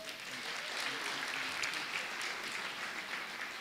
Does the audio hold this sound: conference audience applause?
yes